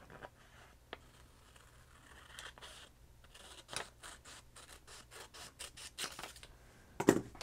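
Scissors trimming around a packing tape image transfer sheet, a series of short crisp snipping and rasping cuts building in rhythm toward the end, close and fairly quiet with no talking.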